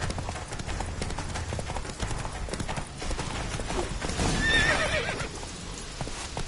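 A horse gallops with rapid hoofbeats in the video game The Witcher 3 and lets out a loud whinny partway through, with faint voices in the background.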